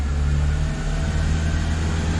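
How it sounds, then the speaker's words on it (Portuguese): Renault Sandero 1.0 engine running steadily in fifth gear, a loud continuous low hum with a mild drone throughout, no voices. "Super silencioso, só ouve o barulho do motor."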